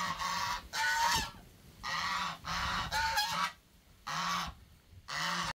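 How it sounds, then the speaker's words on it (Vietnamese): Geese at a garden farm honk loudly and close by in repeated harsh, nasal bursts, several calls overlapping in quick succession with brief gaps between, no talking. "tiếng la của ngỗng rất là tốt"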